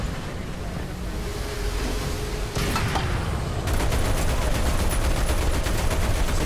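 Bursts of gunfire crackle in War Thunder over a steady wash of wind and surf, rising into sustained rapid machine-gun fire in the final seconds.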